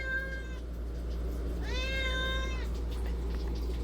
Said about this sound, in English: Meow, kitten.